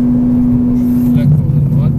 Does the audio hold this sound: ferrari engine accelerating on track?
yes